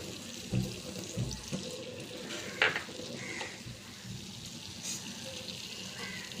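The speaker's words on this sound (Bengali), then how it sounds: "এখন আমি এর মধ্যে একটু জল দেব" A little water is poured into a pan of fish curry for bata macher jhal, with splashing and sizzling from the hot pan, a few louder bursts and clinks over a low kitchen background.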